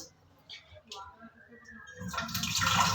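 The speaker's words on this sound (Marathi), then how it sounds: "दोन तीन पाण्यानं स्वच्छ धुवून घ्यायचं" Rice for biryani being rinsed by hand in water, quiet sloshing at first that swells into a louder, steady splashing wash over the last second.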